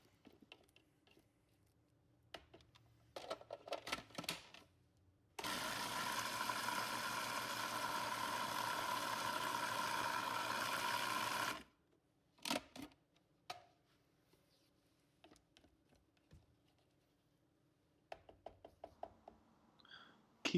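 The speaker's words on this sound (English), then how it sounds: "Keep blending until everything becomes a nice, smooth, creamy sauce" A kitchen blender purees tuna and mayonnaise into a tonnato sauce, giving one loud, steady whirring roar for about six seconds. Light clatter and knocks come before and after it.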